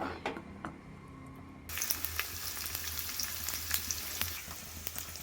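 Steady crackling sizzle of coconut oil heating in a pan, with scattered sharp pops, growing louder after a brief quieter start.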